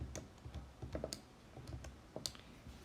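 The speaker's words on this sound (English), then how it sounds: "So on my calculator, I would type 5 choose 2 times 5 choose 1." Calculator keys pressed one by one while entering a combinations calculation, giving faint, sparse clicks at an irregular pace over a quiet background.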